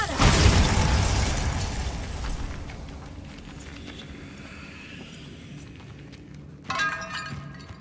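A loud blast from the Bombarda spell in Hogwarts Legacy opens with a burst of crumbling, shattering debris that fades into a rumble, followed by a second smaller crash near the end.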